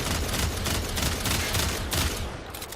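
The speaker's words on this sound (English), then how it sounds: "We're not going to count shots, we're just going to open fire into them." Continuous rapid gunfire from a Stradavar Prime in a shooter game, a dense, loud, unbroken stream of shots rattling for the whole stretch with no voices.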